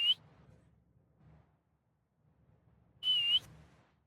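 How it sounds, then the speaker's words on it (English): Two short, sharp whistle blasts, one at the start and another a few seconds later, over quiet low background noise. "He puts his hand to his mouth and lets out a short burst of whistles."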